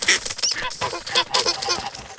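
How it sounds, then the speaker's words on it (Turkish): Ducks eating leaves quack and honk loudly and close by, in a rapid run of overlapping calls. "burada yaprak yiyen ördeklerimiz var"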